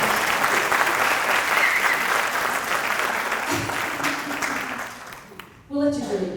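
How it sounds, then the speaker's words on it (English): Audience applause at a concert in a theatre, dense sustained clapping from a crowd that thins out near the end before a voice speaks briefly. "Would you guys give him a round of applause?"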